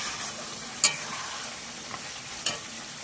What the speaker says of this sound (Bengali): প্রেসার কুকার থেকে এবার আমি মাংসটা কড়াইতে দিয়ে ভালো করে কষিয়ে নেব।